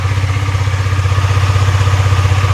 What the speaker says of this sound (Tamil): வண்டி ஓடுது